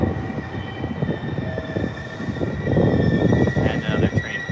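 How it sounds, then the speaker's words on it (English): Trains move through a busy station in Japan, a loud, steady rumble and rush of rail cars passing close by that swells toward the end, with no talk. "And another train pulling in there, and then this train is gonna take off."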